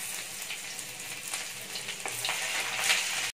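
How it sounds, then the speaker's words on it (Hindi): Finely chopped garlic and ginger sizzle loudly in 3-4 spoons of hot oil in a kadai, a steady close frying hiss with light stirring, no talking. "कढ़ाई में ऑयल ले लिया 3-4 चम्मच और गरम कर लिया। अभी हम डालेंगे इसमें लहसुन के बारीक कटे हुए लहसुन"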